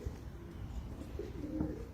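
Lahori pigeons coo softly in a low, steady murmur, with a few faint calls rising over a constant background hum.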